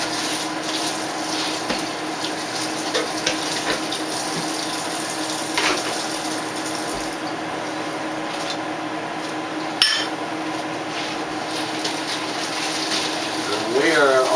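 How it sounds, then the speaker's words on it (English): Kitchen tap running as a colander used for straining potatoes is rinsed in the sink, a steady wash of water for the whole stretch with small clatters, rising a little toward the end. "Clean out my colander as well that I use to strain the potatoes."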